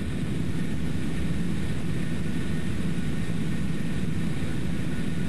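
Steady drone of a light airplane's propeller engine after power is brought back, a continuous loud low hum filling the cabin with no talking.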